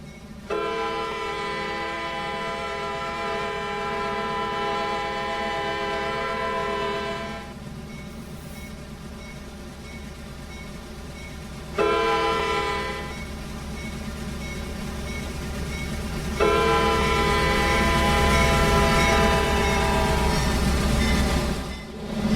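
A heavy video game freight train rumbles steadily up a 2.3% grade while a loud multi-tone horn blasts several times, long sustained blasts separated by short pauses.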